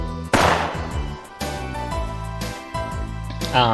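Gunshots fired at a target in an anime shooting-range scene from Muv Luv Unlimited: three or four sharp, loud cracks spaced about a second apart, ringing out over steady background music.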